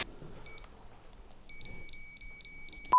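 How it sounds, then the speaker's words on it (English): A quiet electronic temperature sensor chirps in a rapid series of short, high beeps when the temperature drops, following a brief single beep, against a faint background in a jail at night. "it beeps when the temperature drops"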